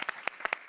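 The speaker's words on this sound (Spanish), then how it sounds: "El público aplaude." Audience applause in a discussion forum on citizenship and transformation: a brief, faint burst of scattered claps, only a few distinct hand strikes over a short moment.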